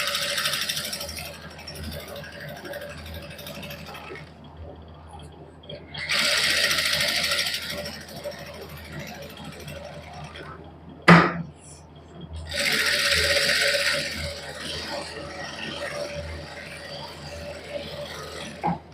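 A sewing machine stitching a simple salwar runs in three bursts of a few seconds each, whirring and rattling up close, with quiet pauses between runs and a sharp click partway through.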